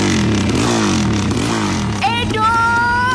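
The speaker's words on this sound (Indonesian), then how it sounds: "pakai knalpot brong segala lagi" A motorcycle fitted with a loud aftermarket brong exhaust rumbles heavily at close range, then revs up sharply in the final second with a rising, raspy engine note.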